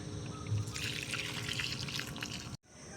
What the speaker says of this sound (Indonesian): Dan terakhir disiram.